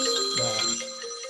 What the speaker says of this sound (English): my phone's just ringing